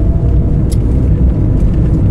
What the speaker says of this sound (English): as we drive on the right in France